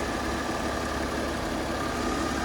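A BMW E60 525d with a six-cylinder diesel engine idles quietly, a steady, even hum close by with no other sounds.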